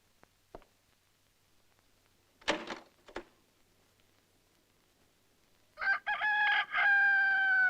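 Near the end, a rooster in a spaghetti western gives one loud, drawn-out crow that dominates the clip. Before it come a few isolated knocks and clatters against near silence.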